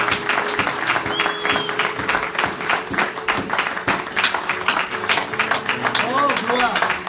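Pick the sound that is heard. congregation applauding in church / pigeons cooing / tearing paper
congregation applauding in church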